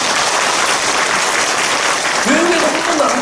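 A church congregation applauds during a sermon, a dense, loud wall of clapping throughout, with a voice rising over the crowd near the end.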